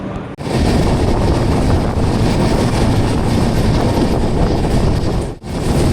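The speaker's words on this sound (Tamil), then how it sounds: "ட்ரெயின் கிளம்பிடுச்சு, வாங்க." The Thirukkural Express pulls out of a station, a loud, steady roar of rolling wheels and rushing wind heard from on board, continuous throughout with brief dips near the start and end.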